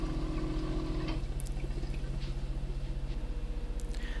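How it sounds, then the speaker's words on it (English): Marine toilet pump on a Lagoon 400 catamaran, running steadily and filling the bowl with water: a loud, continuous rhythmic mechanical hum with a pulsing throb, close by, alone without talk. "Turn this on and it just pumps water into the toilet bowl"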